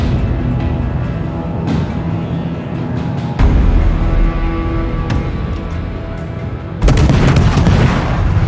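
Booming cannon fire and explosions as a ship is blown apart in a naval combat video game, with loud heavy blasts landing at roughly 3.4 and 6.8 seconds over a rumbling, crackling battle din.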